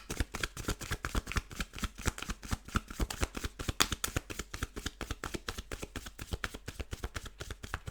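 Tarot cards shuffled steadily by hand in a rapid, rhythmic stream of crisp riffling slaps, close and continuous with no talking.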